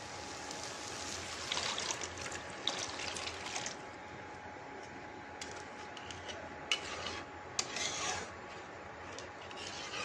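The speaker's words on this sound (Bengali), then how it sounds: "এবার আমি এখানে দিয়ে দেবো জল।" Water poured into a hot karahi of fried spices for an aila fish curry, giving a steady close hiss and rushing splash with a few sharper crackles, no voices.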